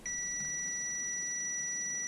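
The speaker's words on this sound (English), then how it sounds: "if I put this on to the continuity with the buzzer" A multimeter's continuity buzzer sounds during a cordless grinder repair, a steady high-pitched electronic tone held unbroken and alone for about two seconds.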